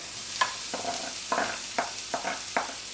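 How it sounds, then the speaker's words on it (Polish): Softened onion and grated carrot sautéing in a pan, a steady low sizzle with about six rhythmic stirring scrapes, close up and with no voices. "Cebulę już mam zeszkloną, dodaję startą marchewkę."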